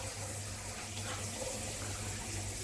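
A shower runs steadily, a continuous broadband hiss of falling water that stays even and close throughout, with no voices over it.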